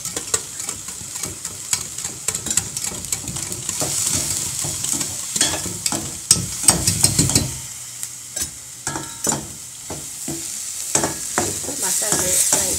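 Curd is whisked with salt, making a quick run of close, crisp taps and clicks of a utensil against a bowl, continuing irregularly throughout with no voices.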